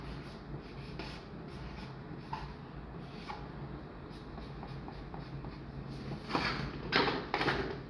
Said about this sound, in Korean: 그럼 우리는 빨간 모자를 한번 그려보도록 할게요.